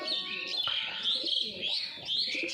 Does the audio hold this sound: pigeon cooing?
yes